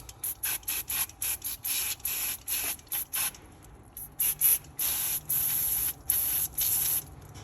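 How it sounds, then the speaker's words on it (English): An aerosol can of intake cleaner sprays onto a removed sensor from a Ford Ranger/Everest/Mazda BT50 3.2 intake, heard as a quick series of short hissing bursts followed by longer sustained sprays, close and fairly quiet. "I'll give it just a good spray with this as well."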